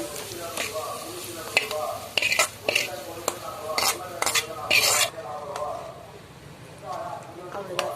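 Ingredients for a banana stem kootu fry in a pan until golden, with a soft sizzle beneath clattering spoon-on-pan scrapes and clicks, while a voice talks over the cooking.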